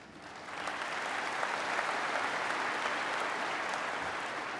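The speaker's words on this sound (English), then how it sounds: "they deserve a round of applause" A large audience at the 2015 NRA-ILA Leadership Forum breaks into sustained applause, swelling within the first half second and holding a dense, steady roar of clapping to the end.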